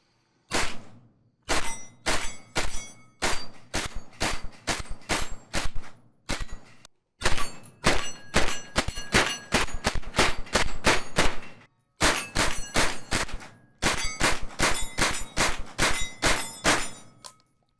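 A Mac 5 rifle fires in rapid strings of sharp, loud shots during a torture test, each burst followed by a short pause and ringing metallic clangs.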